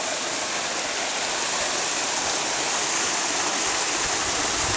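A waterfall near a volcano, in a lava landscape, roars as a steady, dense, close rush of falling water with no pauses from start to finish.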